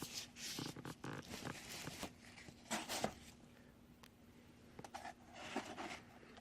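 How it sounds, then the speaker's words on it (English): Unwrapping a small Bandai X-wing model kit, close crinkling and rustling of packaging in irregular bursts with occasional sharper crackles, fairly faint and without talk. "Let's see if I can unwrap it and hold the camera at once."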